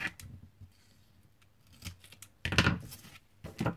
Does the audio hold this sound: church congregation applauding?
no